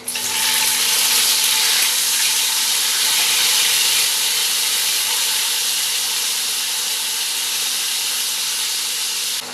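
Ginger-garlic paste hitting chicken frying in a pan, giving a loud, steady broadband sizzle that holds evenly from start to finish with no voices.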